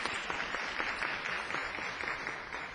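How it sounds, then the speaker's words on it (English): A city council meeting audience applauds steadily, a dense even wash of clapping from a crowd indoors that holds at moderate volume throughout. "give her another round of applause"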